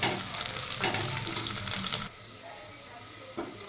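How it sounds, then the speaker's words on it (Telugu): Onions, green chilies and curry leaves frying in a pan for cooker chicken biryani, a loud steady sizzle with stirring that drops off sharply halfway, leaving a quieter hiss and one brief scrape near the end. "ఇలానే కొద్దిగా కరివేపాకు వేసుకోవాలి ఇవన్నీ మంచిగా ఫ్రై చేసుకోవాలండి"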